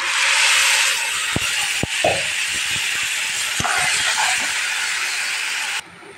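Hot oil tempering of garlic, dried chili and onion poured into taro greens, a loud, steady sizzling hiss that holds for nearly six seconds with a few faint clinks, then cuts off abruptly near the end.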